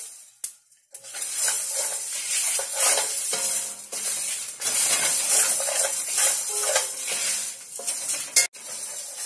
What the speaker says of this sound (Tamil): நல்லா வறுத்துட்டேங்க உளுந்து நல்லா வறுத்துட்டேன்